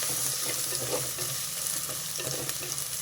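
Finely chopped fenugreek leaves sizzle and fry in a hot pan for a leafy greens pulao, a continuous close crackle with a few light stirring scrapes and no voices.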